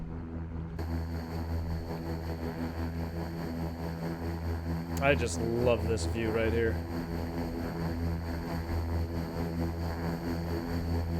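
Steady drone of King Air 350 turboprop engines spooling up for takeoff in a flight simulator game, constant and fairly loud throughout, with someone talking briefly over it partway through.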